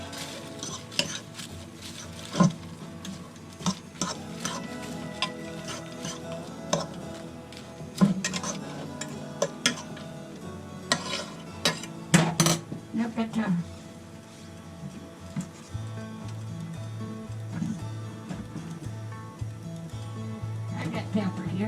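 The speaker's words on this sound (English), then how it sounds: "onions, and celery. I've got to add them and cook them for 5 minutes." Onions and celery go into a pot of homemade chili and are stirred, bringing repeated clinks and scrapes of a utensil against the pot over a faint sizzle, with intermittent talk in between.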